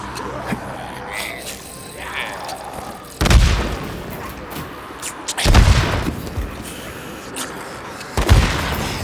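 Grenades exploding in the video game Days Gone: three heavy booms with deep rumbling tails, spaced a few seconds apart, over quieter background game noise and faint scattered sounds.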